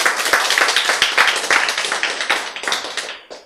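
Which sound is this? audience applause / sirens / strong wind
audience applause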